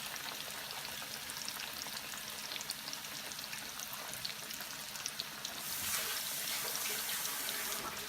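Chicken fried steak fries in hot grease, giving a dense, faint, even sizzle that swells slightly louder near the end, with no voices.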